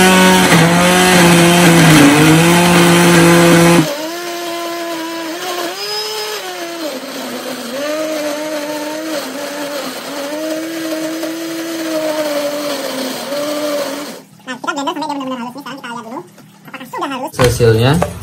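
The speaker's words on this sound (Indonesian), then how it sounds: "Nah, ini kita blender." A kitchen blender grinds a dry fish pellet mixture with no water, a loud harsh motor whine that drops to a steadier, lower hum and then churns unevenly near the end, with voices talking over it.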